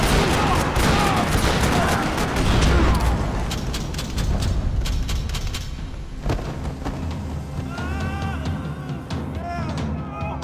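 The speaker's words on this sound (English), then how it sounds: "Another parking lot rattling with gunfire." Gunfire in the Max Payne 3 video game rattles through a parking lot in dense rapid bursts at first, then thins into scattered individual shots against game ambience.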